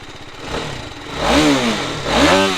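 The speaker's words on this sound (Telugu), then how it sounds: "ఒకసారి మీకు ఎగ్జాస్ట్ నోట్ కూడా వినిపిస్తాను" A 2024 BMW G310RR motorcycle's exhaust note, close and fairly loud: a steady idle broken by two quick throttle blips that swell and then fall back, with no talking.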